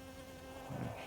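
Honey bees buzz around flowering ivy in a soft, steady drone, quiet and close, with no voices.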